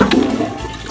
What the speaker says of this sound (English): A toilet that you can flush.